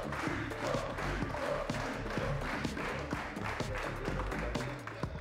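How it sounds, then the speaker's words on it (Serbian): Supporters of a Podgorica gymnasium school team cheer and clap at a televised quiz show final, a dense, steady crowd roar with scattered claps and thumps throughout. "Vaši navijači su odlično raspoloženi. To već čujemo na samom početku."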